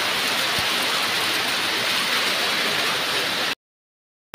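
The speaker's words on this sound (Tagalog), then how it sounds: "Oh, sobrang lakas ng ulan, oh." Heavy rain pouring down during a storm, a dense, loud, steady hiss of water that cuts off abruptly into silence near the end.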